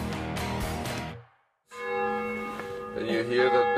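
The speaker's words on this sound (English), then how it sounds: "Can you hear that bell? It's been ringing every hour and every half hour of the whole freaking night." A church bell rings near a mountain village at night, with sustained tonal strikes and long ringing decay returning after a brief silence; louder, overlapping peals build toward the end.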